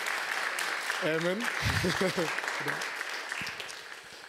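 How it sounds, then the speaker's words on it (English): Audience applause at a startup demo day event, a steady wash of clapping throughout with a person speaking over it. "So special applause."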